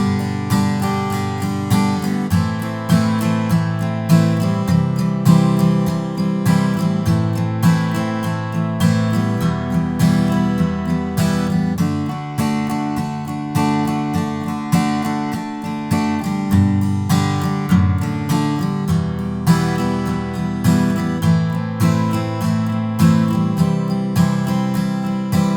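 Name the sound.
acoustic guitar strumming verse chords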